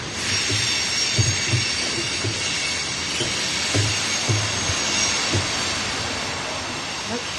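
A train rumbles loudly past outside a historic house, a continuous wide roar with squealing wheels and periodic low thumps of the cars, with a few brief voices under it.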